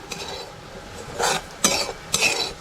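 A potato and coconut mixture is stirred in a pan with a spoon, giving three short scraping strokes over a quiet background, with no talking.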